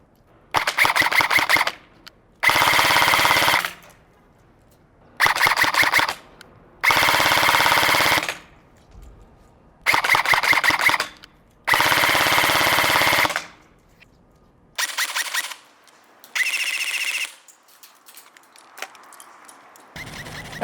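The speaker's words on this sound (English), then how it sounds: "all of the magazines fed both on semi-automatic and fully automatic fire" An EMG Noveske Gen4 airsoft AEG fires in a series of close, sharp bursts, rapid buzzing full-auto strings alternating with shorter semi-auto volleys, separated by brief silences.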